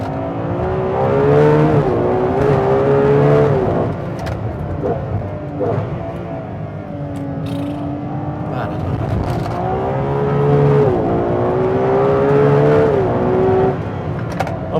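A Ferrari 812 Competizione, the 819bhp limited-edition V12, is driven hard on a track, its engine holding a steady high drone that rises and dips with gear changes, heard from inside the cabin.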